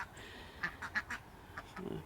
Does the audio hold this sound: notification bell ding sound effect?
no